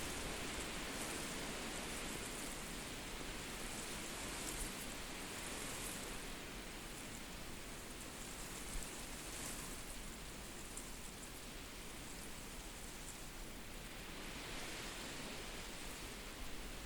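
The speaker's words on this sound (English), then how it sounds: "These waves of wind in the reeds hypnotize me." Wind blowing through reeds outdoors, a steady broad rushing hiss that swells and eases slightly over its length, with no talking.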